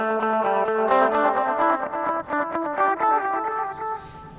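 Electric guitar run through a delay pedal on a dual sixteenth setting, with a melodic run of notes whose echoes repeat in quick layered patterns, loud and close with no talking.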